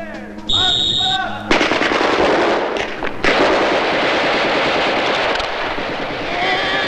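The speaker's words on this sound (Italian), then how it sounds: "Ma chi sono questi che sparano?" Gunfire in a 1962 Italian comedy film scene set in divided Berlin, loud sustained bursts of rapid machine-gun fire after a short musical tone, continuing densely and near to the end.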